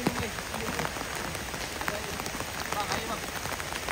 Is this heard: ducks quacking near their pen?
no